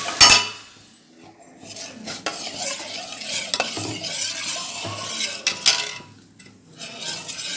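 Boiled carrots tipped into a pan and stirred for carrot kheer, a spoon scraping and clinking against the metal with soft sizzling and a few sharp knocks between strokes, no voices.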